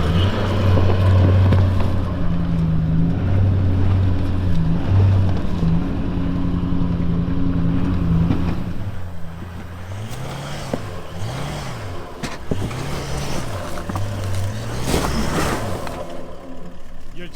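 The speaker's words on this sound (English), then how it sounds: "now it's Brett's turn to give this hill a go" A 4WD engine labours up a steep rocky hill near Wellington Dam, first as a loud steady drone and then in a series of rising and falling revs as the throttle is worked over the rocks.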